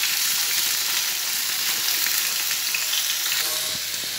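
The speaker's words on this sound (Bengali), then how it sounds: "দিয়ে ওখানে পটল আলু ভাজতে বসিয়েছি" Pointed gourd and potato pieces fry in oil in a pan, producing a dense, even, continuous sizzle that holds steady throughout, close and loud with no voices.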